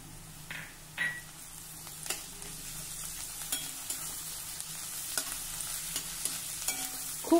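Crushed garlic and onion frying in a pan for a simple dholi dal vegetable dish, a steady soft sizzle with occasional stirring scrapes and a couple of sharper clinks, close and moderate, with no talking.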